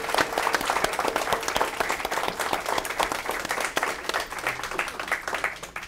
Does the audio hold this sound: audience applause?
yes